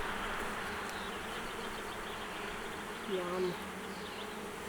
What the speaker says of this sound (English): there's bees down here